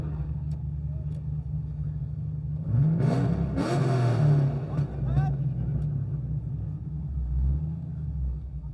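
Burnout car doing a skid at a competition, its engine revving loudly in a steady low rumble with a rising surge in the middle, while people talk over it.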